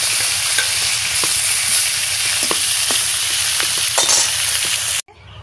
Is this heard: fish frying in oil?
yes